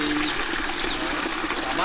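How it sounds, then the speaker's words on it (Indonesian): River water flowing through the third settling basin in a household water treatment setup, a steady rushing and trickling wash close by that continues without pause. "Ini aliran sungai yang tadi saya jelaskan ya dari melewati bak pertama, bak kedua dan ya bak ketiga."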